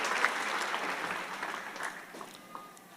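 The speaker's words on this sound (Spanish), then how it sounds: "Dale un fuerte aplauso al Señor." Church congregation applause at a Spanish-language service, a full, steady round of clapping from many hands that slowly fades toward the end, with no speech over it.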